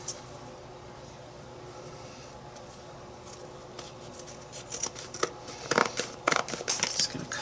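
A pair of scissors cuts out paper in a craft project, with quiet faint handling at first and then a cluster of crisp snipping and crinkling sounds toward the end, alone without talk.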